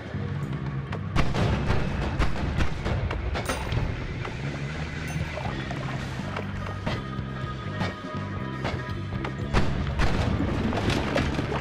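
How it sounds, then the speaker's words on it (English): Many bombs exploding in a wand-casting video game make a continuous barrage of loud, overlapping booms and thuds with crackling debris, rolling on for over ten seconds without pause. "Whoa! That's a lot of bombs."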